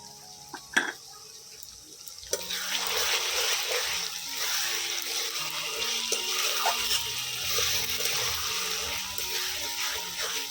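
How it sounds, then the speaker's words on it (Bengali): A little water from rinsing a spice bowl is poured into a cooking pan of lightly fried ground spices for dahi chicken. A couple of sharp knocks come first, then a sizzling, splashing wash continues steadily to the end. "মশলার বাটি ধোয়া সামান্য একটু জল দিয়ে দেবো।"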